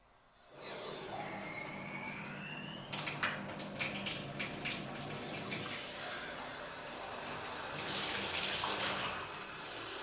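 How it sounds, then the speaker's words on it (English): Warm water from a tap pours into a bathtub as it fills, a steady close rush that starts abruptly and grows brighter with splashing toward the end. "So I am going to fill up this tub with warm water."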